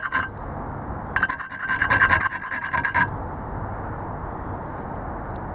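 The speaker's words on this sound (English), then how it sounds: "But what you can do is just rub it on the concrete." A metal kerosene lantern burner cup is rubbed back and forth on concrete, giving a gritty rasping scrape for about two seconds, close and moderately loud, then it stops. No voices.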